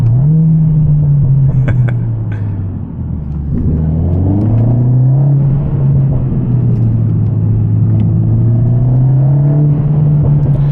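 Engine of a Mercedes CLA45s AMG car downshifting: a deep, close, steady rumble whose pitch dips and then climbs again, with no voices over it.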